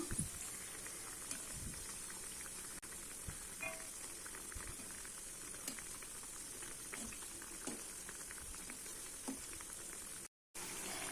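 Masala vada deep-frying in oil over a medium flame: a steady, soft, fine crackling sizzle, continuous and fairly quiet, with occasional small pops.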